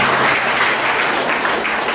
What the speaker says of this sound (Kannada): ಚಪ್ಪಾಳೆಯೊಂದಿಗೆ ಸ್ವಾಗತಿಸೋಣ